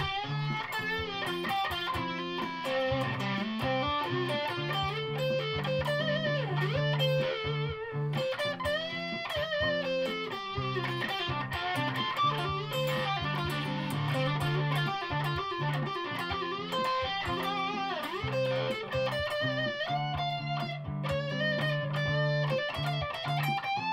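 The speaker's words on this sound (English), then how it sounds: "Rat pedal for more distortion" Electric guitar, a 1996 Squier Affinity Stratocaster played through a Rat distortion pedal, gives a sustained crunchy distorted riff with steady repeating low notes and ringing upper chords, loud and continuous, with no talking.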